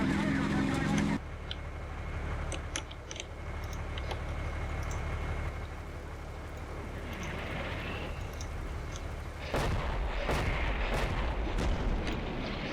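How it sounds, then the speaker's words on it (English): Artillery fire in the war game Combat Mission Black Sea: a low rumbling battlefield bed gives way to a cluster of sharp, heavy booms near the end. "More artillery on that compound, on that factory compound where I have 2nd Squadron headquarters."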